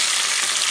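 Sliced onion sautéing in hot oil with garlic and mustard seeds, a dense, continuous loud sizzle heard up close without pause.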